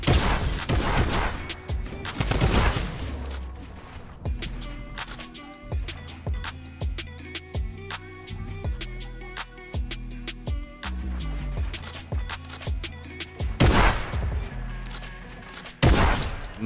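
Rapid gunshots and thuds ring out in a Fortnite Creative 1v1 match, coming in irregular bursts at close range with dense loud hits near the start and end and steadier shots in between.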